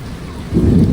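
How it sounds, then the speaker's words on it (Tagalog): Heavy rain pours during a storm flooding España Boulevard near UST. About halfway through, a deep roll of thunder swells up beneath the rain. "Kumukulog-kulog kumikidlat na naman eh."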